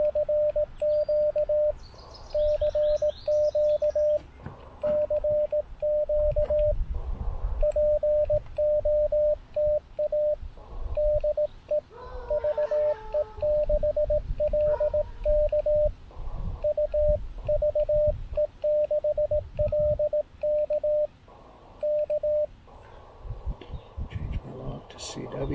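Amateur radio CW Morse code calling from a low-power QRP station outdoors, a steady sidetone of dits and dahs keyed in rhythmic bursts over background noise with brief birdsong and rustling.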